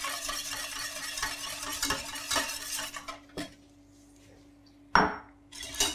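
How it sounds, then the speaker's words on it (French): A sugar and stabiliser mixture is poured and stirred into a warm ice-cream base at 45 degrees for frozen chocolate truffles: a close, grainy rustling stir for about three seconds, then near quiet broken by a sharp knock. "Je vais donc verser en puits mon mélange sucre et stabilisateur."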